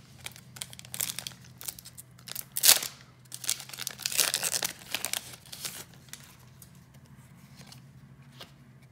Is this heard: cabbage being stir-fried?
no